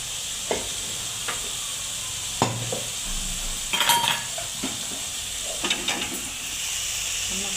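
Ground masala fries in a pan while being stirred for a puri bhaji meal: a steady hiss of sizzling runs throughout, broken by occasional scraping and clinking spoon strokes against the pan.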